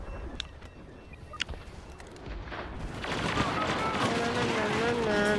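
Sniper rifle fire in Star Wars Battlefront gives a couple of sharp, brief cracks early on, then a louder, sustained wash of battle noise and whining tones builds in.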